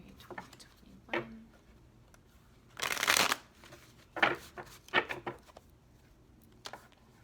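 A new, heavy tarot deck is shuffled by hand in a quiet room, giving soft riffling bursts and scattered taps, with one longer, louder riffle in the middle.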